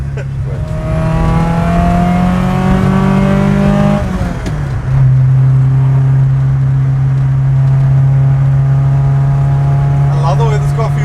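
A VW Mk2 Golf GTi 16v with velocity stacks revs loudly while driving, its engine note climbing steadily, dipping briefly around the midpoint, then holding a strong steady drone close by.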